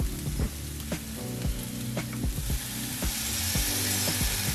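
Garlic and vegetable tofu scramble sizzle steadily in a hot frying pan, with a continuous loud fry broken by the knocks and scrapes of a utensil stirring the pan.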